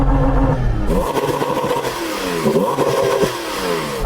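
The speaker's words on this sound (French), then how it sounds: "écoutons la voiture avec le meilleur son ici" A sports car engine revs hard at a drag race, a loud close roar that climbs and settles in repeated surges, with no talking.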